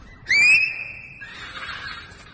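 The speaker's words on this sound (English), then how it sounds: "he of course whistles to get her attention" A single rising whistle rings out briefly, then fades into a soft murmuring background of distant voices and ambient noise.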